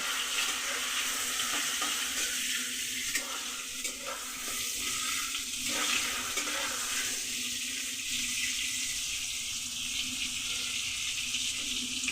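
Pointed gourd (potol) frying with salt and a little turmeric in a pan, a steady loud hiss and sizzle throughout with faint stirring scrapes, no talking.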